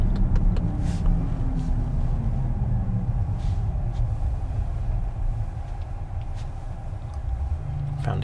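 Tesla Cybertruck with dual motors driving on the road, a steady low rumble of tyre and road noise with a faint electric motor whine, continuous and close, with no talking.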